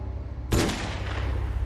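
A single loud revolver shot cracks out suddenly, then rumbles and fades away behind a low, steady background.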